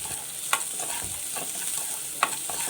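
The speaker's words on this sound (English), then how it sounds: "Fry this up nicely till golden brown." Chopped ginger and garlic frying in a pan for chilli bread, a steady soft sizzle with a couple of brief stirring clinks, close and alone without talk.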